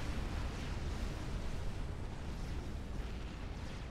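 Battleships shelling an army in a real-time strategy video game match on the Seton's Clutch map, heard as a dense, continuous low rumble of distant explosions and artillery fire, steady and fairly quiet.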